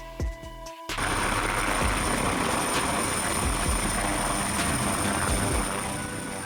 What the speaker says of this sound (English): Helicopter, a type of rotorcraft in which lift and thrust are supplied by horizontally spinning rotors